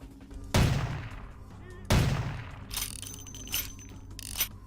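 Two sharp, loud pistol shots ring out about a second apart in the Vampire the Masquerade Bloodlines video game, each with a decaying tail, followed by fainter mechanical clicks and clatter.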